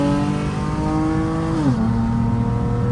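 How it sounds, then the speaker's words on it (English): A V6 or R/T Mopar engine in manual mode revs steadily, then its pitch drops sharply as the transmission shifts up, and the engine settles into a lower drone. Loud and close, no talking. "Now you can hear how the trans shifts each time."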